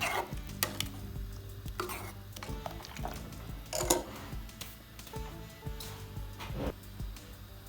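A spoon stirs hot and sour soup in a pot after black pepper powder goes in, with irregular clinks and scrapes against the metal over a soft simmering hiss, close and fairly quiet.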